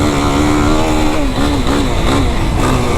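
A stock 2025 Yamaha YFZ 450R ATV revs hard out on the dunes, its engine a loud, continuous, rising-and-falling snarl that stays close throughout.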